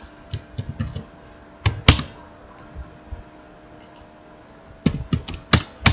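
Keys clack on a computer keyboard while CSS code is typed, in short clustered bursts of taps with pauses between, close and fairly crisp, with no talking.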